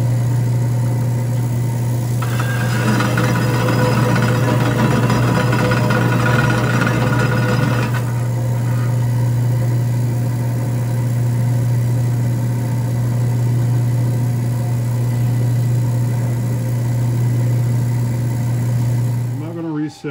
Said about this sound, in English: I'm going to notch this with the bandsaw so I can put a screwdriver in there to pry these two halves apart.